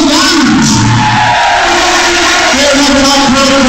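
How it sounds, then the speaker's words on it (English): Loud live crowd at a Manchester event, cheering and applauding, a dense continuous roar with whoops rising above it throughout. "a nice round of applause, please"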